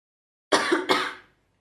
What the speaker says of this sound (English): Please could you cough?